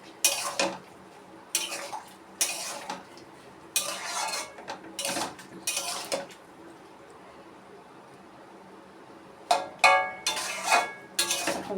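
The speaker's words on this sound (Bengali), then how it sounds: "আমি আগে ঢাকা খুলে নিই।" A cooking pot of mixed vegetable curry being handled on a home stove, with a series of sharp metallic clatters and scrapes of the lid and utensils arriving in bursts separated by quiet gaps, close and clear.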